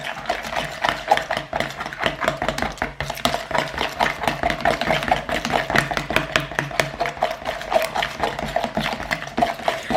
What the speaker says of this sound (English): And then just give it a whisk.